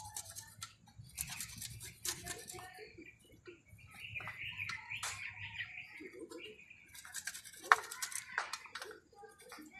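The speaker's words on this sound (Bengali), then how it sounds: "আদাটাকে এই যে আমি এই মেশিন আছে এতে ঘষে নেব। রসুনও আমি ঘষে নেব।" Ginger and garlic are rubbed on a kitchen grating machine, with quick, rasping scrapes at close range, mixed with some talking and faint background chirps.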